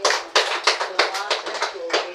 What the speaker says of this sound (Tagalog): Pumalakpak ka po ang may natutunan sa ating Panginoon.